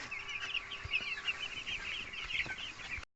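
Two-day-old Rhode Island Red heritage chicks peep steadily in a brooding cage, a dense chorus of high, rapid chirps that continues without pause until it cuts off abruptly near the end.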